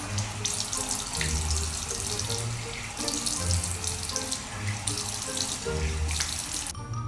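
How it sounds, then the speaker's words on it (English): Tap water runs steadily into a bathroom sink during face washing, a continuous close splashing stream with small shifts as hands move through it, cutting off at the very end; no one speaks. "I'm gonna wash my face now."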